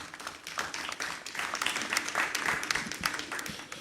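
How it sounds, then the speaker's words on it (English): Audience applause at an awards ceremony honouring changemakers in Ghana, a steady dense patter of many hands clapping at moderate distance, fairly soft and sustained throughout. "Please do a big round of applause for him one more time"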